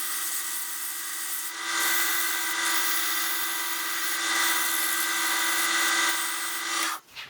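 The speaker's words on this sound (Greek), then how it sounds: "Λίγο γυαλοχαρτάρισμα και είμαστε έτοιμοι για το δείγμα." Steady humming whir of a spinning wood lathe with a soft abrasive rubbing of sandpaper on wood layered on top, continuous and fairly close, ending abruptly.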